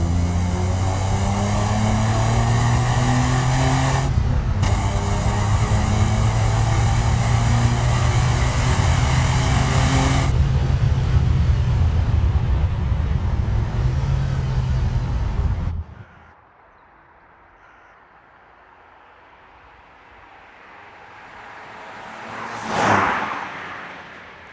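BMW Alpina B12 E32 with a manual gearbox, its V12 engine droning loud and steady with rising harmonic tones as it pulls through gears for about sixteen seconds, then dropping away to faint road noise and a brief passing whoosh.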